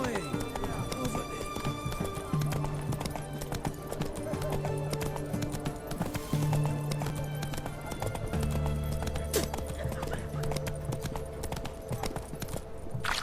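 Roach, a horse in The Witcher 3: Hearts of Stone, trots with a steady clip-clop of hooves and gives an occasional whinny, set against continuous game music.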